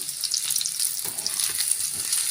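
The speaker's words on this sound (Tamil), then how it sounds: "நல்லா வதக்கி விட்டுக்கோங்க வெங்காயம் சேர்த்துட்டு ஒரு ரெண்டு நிமிஷம் வதக்கினா போதும்" Roughly cut medium onions sauté in hot oil in a pan during a Tamil raw-banana fry recipe, giving a steady, continuous close sizzle with soft stirring scrapes and no talk.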